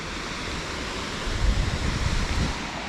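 A small waterfall produces a steady broadband rush of falling water, moderately loud and continuous, with some low rumbling swells midway and no voices.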